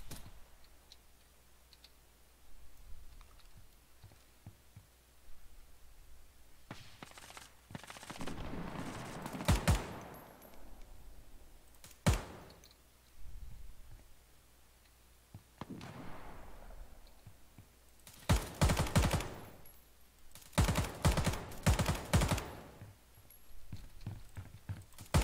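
Gunfire in the tactical shooter game Ground Branch, sharp shots and bursts scattered across the stretch, some clustered in rapid volleys, others single and sparse, with quieter gaps between.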